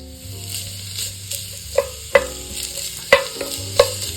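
Onion sizzling in a couple of tablespoons of olive oil in a 7-quart Dutch oven, with a steady frying hiss and a few sharp clanks and scrapes of stirring. Faint background tones run underneath, and nobody speaks.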